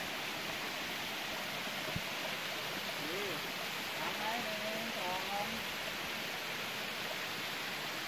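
Steady broadband rush of Taphoen Khi Noi waterfall in Phu Toei National Park, Suphan Buri, pouring over water-eroded rock, continuous and fairly loud, with faint voices murmuring underneath.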